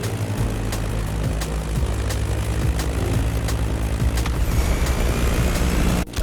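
A Staggerwing propeller biplane drones steadily in flight in The Crew Motorfest, a continuous loud engine and airscrew hum that holds evenly throughout, with no voices over it.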